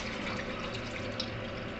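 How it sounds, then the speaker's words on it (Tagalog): Lentils washed under a running kitchen tap, a steady, soft hiss of flowing water with faint splashing, continuous and alone. "Hugasan ng maayos."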